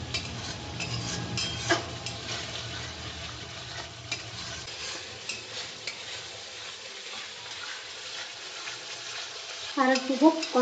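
Spice masala with sour yogurt stirring and frying in oil for Bengali doi katla, a soft steady sizzle with occasional spoon scrapes against the pan and a brief clatter at the end.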